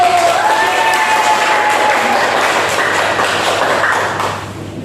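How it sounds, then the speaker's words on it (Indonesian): Elementary school students applaud group 1 as it comes forward to present in a civics classroom. The clapping is loud and close and holds steady for a few seconds with a faint tone running under it, then begins to fade near the end. "Ya, tepuk tangan untuk kelompok 1."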